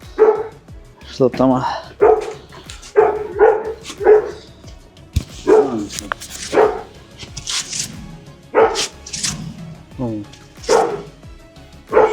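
A dog barks repeatedly in loud, short bursts spread through the scene, with people talking over and between the barks.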